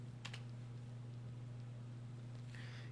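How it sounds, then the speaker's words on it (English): Typing on a computer keyboard while entering garbage input into a Java program: a few quick clustered keystrokes near the start and another burst at the end, close and clear over a steady electrical hum. "So I type garbage here."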